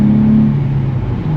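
A 2024 Nissan 400Z engine revs loudly and close up. The pitch holds high, then sinks only slowly as the revs hang before settling.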